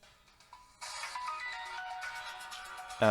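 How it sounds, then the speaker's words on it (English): A phone ringtone trills during a Magic the Gathering Online Pauper match, a steady electronic ring that holds fairly loud for a couple of seconds before a louder burst at the end. "Sorry, my phone rang."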